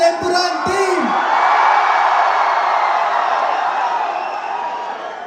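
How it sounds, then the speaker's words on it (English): A large crowd at a film event for the movie L2 Empuraan cheers and whoops in a loud, sustained roar that slowly fades, with a few shouted voices at the start. "One big cheer for the whole Empuran team."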